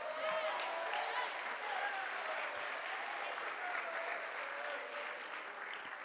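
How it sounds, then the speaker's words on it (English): Graduation audience applause, a dense and sustained clapping crowd heard from across a hall, even in level throughout, with faint voices mixed into the clapping. "Give me a round of applause."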